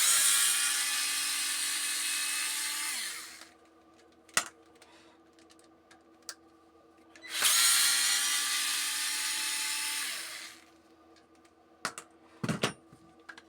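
A cordless power screwdriver backs out the four turret screws on an HPI Savage RC truck: two loud sustained whirring runs of about three seconds each, separated by quiet handling clicks and small knocks.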